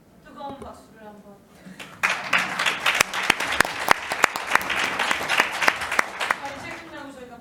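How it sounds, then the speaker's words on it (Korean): An audience applauds an ambassador at a Eurasian forum, starting with talk alone, then breaking into loud, sustained clapping with sharp individual claps standing out, while a voice continues speaking over it. "우영근 대사님께도 뜨거운 박수를 한번."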